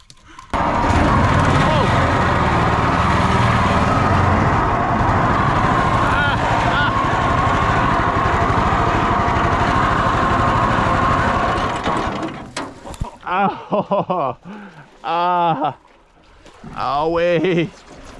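A chainsaw-powered Thai longtail boat engine roars loud and steady for about twelve seconds, then cuts out, after which people talk over quiet water.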